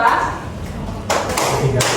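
A classroom of pupils claps together in a counting game, with two distinct group claps, one after the other, heard close and loud under a teacher's voice.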